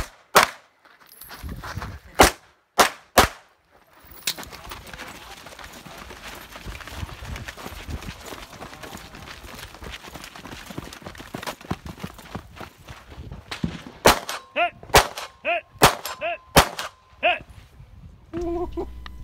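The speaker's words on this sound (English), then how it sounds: "I shot this stage a second time for fun, handgun only, to see how easily I could make the hits with my pistol at 50 yards" A red dot-equipped pistol fired at steel targets 50 yards away during a 2-gun action match: a few sharp cracks open, then a quick string of shots near the end with bright metallic pings ringing after, and shuffling movement between.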